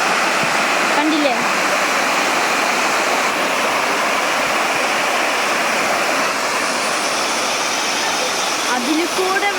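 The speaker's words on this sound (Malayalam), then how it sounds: "ഇതാണ് അച്ഛൻ പറഞ്ഞ വാട്ടർ ഫൗണ്ടൈൻ." A water fountain at Oxygen Park in Qatar gives a steady, loud rush of falling water that fills the whole stretch, with a voice speaking briefly over it.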